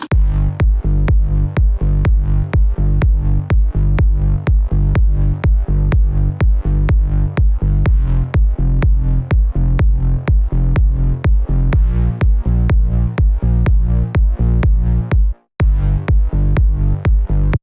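Punchy electronic kick drum hitting a steady four-on-the-floor house beat layered with three deep bass layers, loud and continuous, with one brief dropout near the end.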